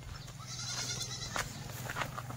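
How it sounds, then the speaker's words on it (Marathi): Kathiawadi goats at a live livestock sale bleat faintly a few times over low, steady background noise from a distance. "हे बघा मित्रांनो शेळी."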